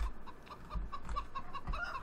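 Hens in Farming Simulator 15 cluck in a busy, overlapping run of short clucks, close and steady with a low thumping underneath.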